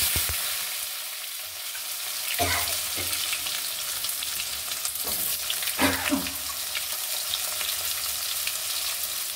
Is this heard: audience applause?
no